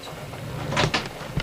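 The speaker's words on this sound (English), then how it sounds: "I'll leave this door open till you get back in here." A door in a house swinging open, heard as a couple of brief, soft clunks and a scrape close by against quiet room tone.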